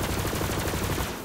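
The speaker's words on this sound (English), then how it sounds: "I might switch out the pistol. Let's see how it shoots." A burst of rapid, loud gunfire from a legendary pistol in the video game Borderlands 3, a dense, continuous volley of shots lasting about a second with no speech.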